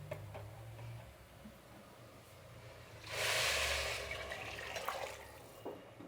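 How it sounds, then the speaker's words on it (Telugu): Hot water poured into a cooking pot of jeera rice with cumin, a rushing pour of a couple of seconds after quieter kitchen handling noise, close and moderate. "నీళ్ళు కూడా బాగా కాగిందండి, నీళ్ళు ఇందులో పోసేద్దాము."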